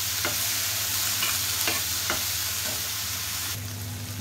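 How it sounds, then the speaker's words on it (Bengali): Okra and green chillies fry in a pan, a constant dense sizzle with light scraping strokes of a spatula at irregular intervals, close and fairly loud. "আর ঢেঁড়স ভাজতে বেশি সময় লাগে না, অল্প একটু সময়ে আমার রান্নাটা হয়ে যাবে।"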